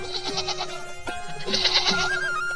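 A goat bleats repeatedly in a Hindi cartoon folk tale, the cries loud and wavering over a steady background music bed, with a short break around the middle.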